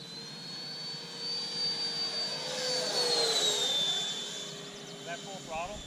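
Freewing F-22 Raptor electric RC jet making a fast pass at full throttle, a high ducted-fan whine that rises and falls with a clear Doppler sweep as it passes close, then fades into distance.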